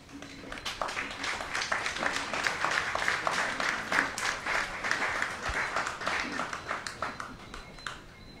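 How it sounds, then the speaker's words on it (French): An audience at a tribute ceremony at a consulate in French Guiana applauds with a dense, steady patter of many hands, building and then tapering off over several seconds, moderately loud, with faint voices underneath. "Je vous demande de l'applaudir."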